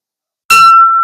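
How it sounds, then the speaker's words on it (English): One bright, sharp clang of a Waterford crystal bowl struck once, ringing with a sustained high tone that fades slowly, loud and close. "What you just heard was a Waterford bowl"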